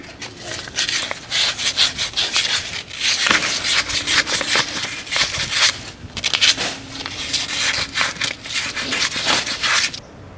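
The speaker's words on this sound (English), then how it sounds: "this is pretty stubborn dried up grease on here, so I actually do have to use some sandpaper" Sandpaper scrubs stubborn dried grease off a brake caliper bolt from a 1998 Audi A6 Quattro, making rapid rhythmic back-and-forth rasping strokes in bursts, close and fairly loud, with no speech.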